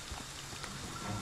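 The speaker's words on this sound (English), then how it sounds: "this rain in this game is amazing" Rain falls in the video game Friday the 13th, a soft, steady hiss of drops with no voices over it, quiet and brief.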